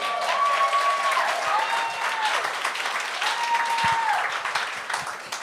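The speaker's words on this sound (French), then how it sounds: "applaudissez jusqu'à temps qu'elle commence" Studio audience at a French-language talent show applauds steadily and loudly throughout, a dense wash of clapping with faint cheers, fading slightly at the end.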